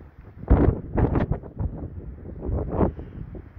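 Gusty wind buffets the microphone in rough, low roaring bursts that swell and fade over a few seconds, with no voices.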